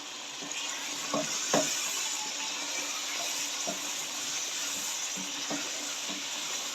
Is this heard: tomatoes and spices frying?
yes